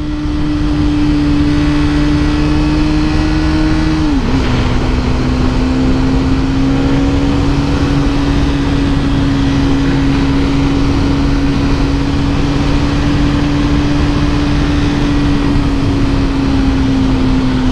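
A Hero Karizma XMR 210 motorcycle engine drones loudly at high revs while riding, holding a steady pitch that dips briefly once as the throttle shifts, alone without talking.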